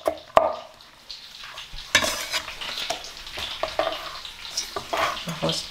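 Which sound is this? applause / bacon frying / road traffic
bacon frying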